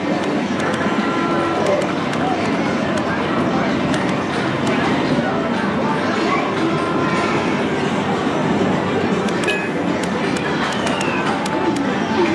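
A passing train in the Crossy Road arcade video game, a loud, continuous rumble with rail clatter and sharp clicks sustained throughout, under a talking voice.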